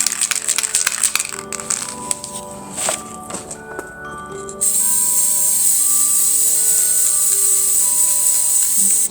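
Spray can of metallic pink paint hissing onto pampas grass, a few short bursts followed by a long steady spray that stays loud and close.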